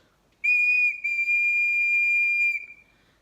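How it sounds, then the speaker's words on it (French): A small whistle blown once in a single steady, shrill tone lasting about two seconds, with a tiny break near the start, loud and close. "Et donc, ça, c'est un sifflet."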